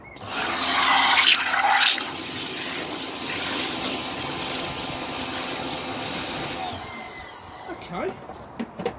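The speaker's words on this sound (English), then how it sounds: "I'm mixing this with warm water." Warm water gushes and churns loudly into a bucket with car shampoo, a steady rushing swirl that settles into a constant hiss before tapering off with a few clunks.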